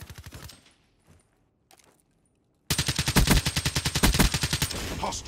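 Rapid automatic gunfire in Black Ops 3 during a 3v3 Kill Confirmed match on the Evac map: a short burst, a near-silent gap, then a long, loud, steady stream of shots close by.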